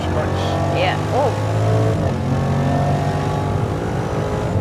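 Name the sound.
Jaguar F-Pace SVR accelerating on Nürburgring hot lap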